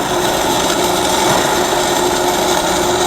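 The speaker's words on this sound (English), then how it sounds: "Who said you can't weld downhill?" Steady, loud buzzing hiss of welding running downhill, continuous and close without breaks.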